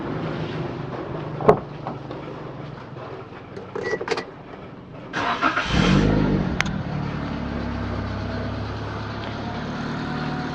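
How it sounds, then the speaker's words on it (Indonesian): A first-generation Toyota Calya engine idles steadily nearby, with a few clicks and a louder rev-like swell midway before settling back to a low hum. "Kita coba dengerin mesinnya ya."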